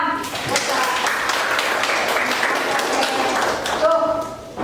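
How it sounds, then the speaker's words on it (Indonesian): Clapping from a classroom of students during an Indonesian school guidance lesson, a steady broadband patter lasting several seconds with faint voices and tones underneath. "Oke, tepuk tangan."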